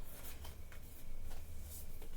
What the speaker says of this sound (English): Shuffle that again, because I don't feel that was shuffled properly.